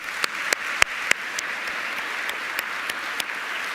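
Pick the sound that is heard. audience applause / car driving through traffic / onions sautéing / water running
audience applause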